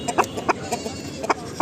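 Chickens and roosters clucking and crowing in short repeated bursts at a busy poultry market in Pattikonda, fairly close with steady background hubbub.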